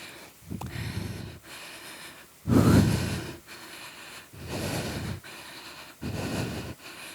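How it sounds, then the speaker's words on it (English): Heavy breathing during a hard indoor cycling workout, with loud rhythmic inhale and exhale bursts close to the microphone, one especially forceful gasp near the middle. "Should be breathing quite heavy."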